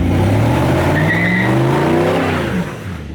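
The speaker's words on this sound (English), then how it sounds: "Corvette very slippery in the dirt, that's for sure" Corvette engine revving hard as the tires slip and skid on loose dirt inside a warehouse, loud and close, with the pitch sliding up and down.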